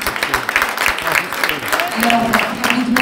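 Brief burst of audience applause at the Mama Muilu award ceremony in Brussels, fairly close and mixed with crowd murmur and a voice underneath.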